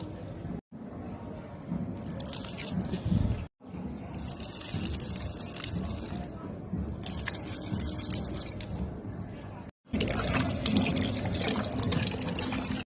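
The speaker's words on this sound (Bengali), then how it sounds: "আমি উঠেছি বন্ধুরা বিকেলে ছাদে জল দিতে গাছগুলোতে।" Water poured onto potted plants on a rooftop in the afternoon, a continuous splashing and trickling stream that breaks off briefly a few times, close and fairly loud with soft background noise.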